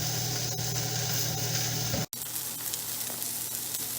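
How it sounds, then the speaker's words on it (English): Seasoned pork chops sizzle steadily in a hot pan, a close, constant crackling hiss with a brief clunk partway through. "You hear that sizzle?"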